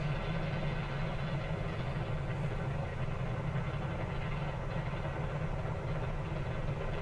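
A rocket engine burning in Kerbal Space Program with Real Solar System and Realism Overhaul mods, a continuous, even, low rumbling roar that holds steady throughout without breaks.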